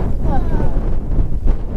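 Strong gusts of wind on Hoverla mountain buffet the microphone in a loud, continuous roar, with a voice speaking briefly through it.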